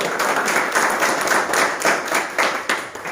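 Audience at an indoor business gathering clapping loudly, dense continuous applause with quick rhythmic claps rising and falling over a few seconds, close and full.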